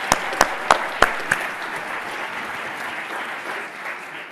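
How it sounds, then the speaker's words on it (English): Audience applause for a young panelist at a youth-organization event, opening with a few loud, sharp individual claps before settling into a steady, fading round of clapping from a crowd. "So can we give a round of applause to Jamar?"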